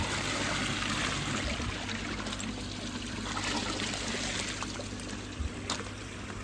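Pond treatment liquid trickles and pours into the flowing water of a garden pond, a steady splashing wash of moving water that holds constant throughout.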